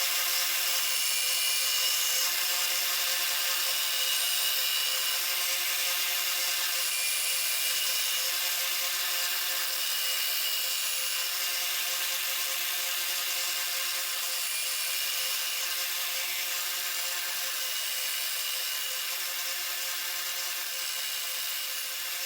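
A knife blade is sharpened on a powered belt, refining the bevel and raising a burr before leather stropping, giving a steady, continuous high-pitched abrasive hiss that holds nearly unchanged the whole time with no talking.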